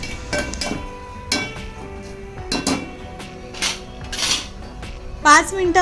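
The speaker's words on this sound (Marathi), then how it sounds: "हे सगळे जिन्नस छान मिक्स करून घेऊयात मसाल्यांमध्ये आणि हलवून घेऊयात" A spoon works a spiced tomato mixture in a metal pan for an onion-and-garlic-free offering dish, giving loud close clinks and scrapes in irregular bursts, with faint voice traces in the background.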